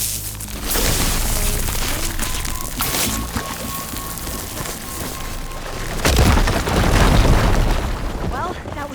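A loud explosion at a fire gleam in Horizon Forbidden West, a heavy booming blast followed by rumbling debris and crackle, close and dominant, with a voice talking over parts of it.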